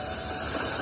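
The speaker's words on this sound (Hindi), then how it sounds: "अच्छी बारिश हो रही है।" Steady rain falls as a dense, even hiss with no break, fairly soft and close, with no voices over it.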